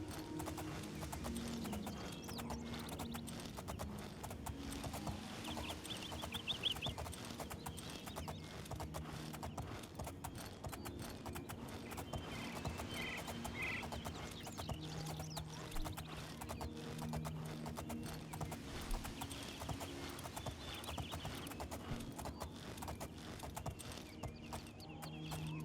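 Horse hooves clip-clop steadily through the game Oblivion, a continuous galloping rhythm with occasional whinnies, set over a constant wash of background music and ambience.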